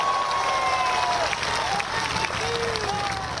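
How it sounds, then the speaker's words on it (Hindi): A large crowd at a political rally in Balurghat, West Bengal, applauds steadily and loudly throughout, with scattered whistles and cheers rising above the clapping. "यदि भरोसा हो तो तालियां बजाइएगा।"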